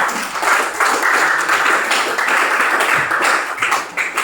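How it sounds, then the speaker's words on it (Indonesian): A group applauds in a training workshop for regional facilitators, steady dense clapping that holds for about four seconds with only slight dips in loudness. "Tepuk tangan lagi"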